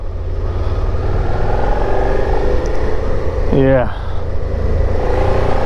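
A Suzuki SV650 motorcycle engine drones steadily and loudly during a late-night highway ride, with wind rush throughout and a brief rising rev near the middle. A rider's voice speaks briefly over it.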